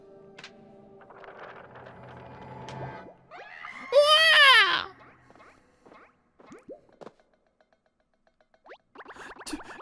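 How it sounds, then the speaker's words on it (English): A Toad character in Paper Mario: The Origami King, aboard the SS Princess Peach, lets out a loud, high-pitched wavering scream lasting about a second, set between quieter game sounds and music. "you can't just scream like that"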